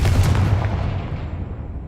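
A Confringo blasting spell explosion in Hogwarts Legacy, a single loud booming blast at the start that rumbles and fades out over two seconds.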